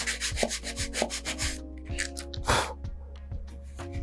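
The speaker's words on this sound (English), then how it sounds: "So now I got my sanding tee and some 220 grit sandpaper. And now I'll sand along there." Sandpaper of 220 grit on a sanding tee rubs along a model rocket fin, with rhythmic back-and-forth scratchy strokes that start fast and even, then turn slower and more irregular, close and clear.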